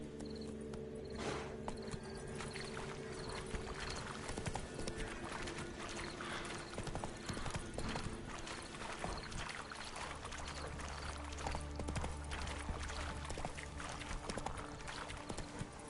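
Horse galloping in the video game Witcher 3, a steady rapid clip-clop of hooves throughout, fairly faint, with game ambience beneath.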